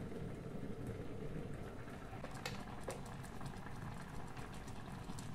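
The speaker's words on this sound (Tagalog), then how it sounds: "Pakuluin natin mga labs hanggang maluto yung ating paksiw." Paksiw, fish simmering in vinegar in a covered pot, a faint steady bubbling and crackling boil with scattered soft pops, close by and uninterrupted, no one speaking.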